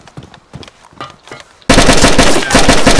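AK rifle gunfire in a video game: a few sparse, quieter shots at first, then a sudden loud, dense burst of rapid automatic fire that lasts to the end.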